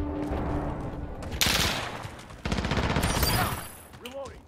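A rifle in the Modern Warfare video game fires in two rapid automatic bursts, loud and close, with a voice briefly heard afterward.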